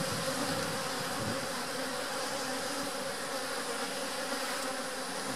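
Honey bees from an opened, normally aggressive hive that was recently split and has a queen, humming in a dense, steady drone close up, with no speech over it.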